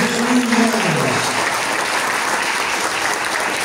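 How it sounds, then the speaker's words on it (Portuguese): A church congregation claps together at an Easter Sunday evangelical service. The clapping is loud, dense and sustained, and a voice briefly rises over it near the start before the applause carries on alone. "Nossa saudação com palmas em nome de Cristo Jesus."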